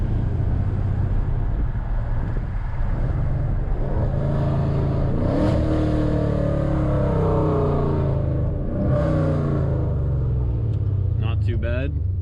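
A Dodge Challenger Scat Pack engine accelerating on the road, a steady deep rumble heard from inside the car, rising in pitch through a few gear pulls with constant road and wind noise.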